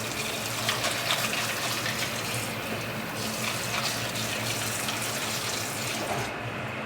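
Cold water pours steadily from a tap over lobster shells in a pot, making stock in a kitchen. The gush is continuous and close for several seconds, with no talking.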